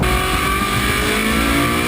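A Ferrari 458 Speciale's high-revving engine wails as it climbs past 5,000 rpm, a loud, sustained, tightly harmonic howl heard close and alone with no pauses.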